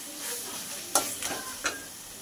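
A spoon stirs malai mocha, a banana-flower dish cooked with sugar, garam masala and ghee, in a pan on the stove, giving a few soft scraping strokes over a faint sizzle with no talk.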